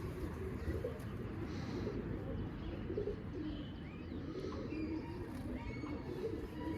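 Soft cooing from a pigeon repeats over a constant rushing background noise, with occasional faint chirps mixed in.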